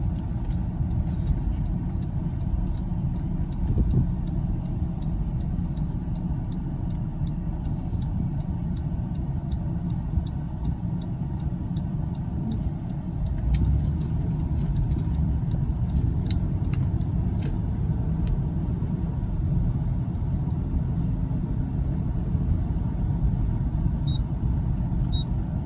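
Interior road noise from a 2002 Buick Park Avenue with Dyna-Ride suspension on a short test drive: a constant low rumble and engine hum, with light ticking and small clicks scattered throughout, steady and close.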